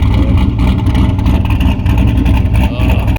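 A turbocharged Mazda Miata running nitrous idles loudly and roughly on a dyno, its choppy, lumpy rhythm pulsing close up and steady throughout.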